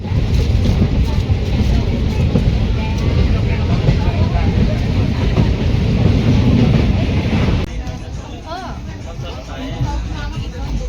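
Inside a moving passenger train, a loud steady rumble of wheels and carriage noise fills the space, easing off abruptly near the end as the run quietens, with someone talking over it.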